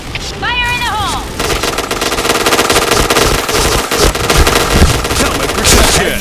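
Gunfire in the PointBlank shooter game comes as rapid machine-gun bursts, loud and dense, following a brief rising electronic chirp, with heavy automatic fire continuing throughout.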